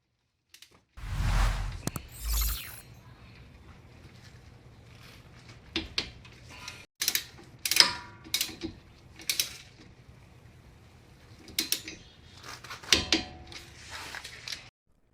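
A 12mm socket on a ratchet tightens the brake caliper bolts on a 2004 Honda Pilot front brake, a thump followed by scattered short runs of close, quiet ratcheting clicks with pauses between strokes.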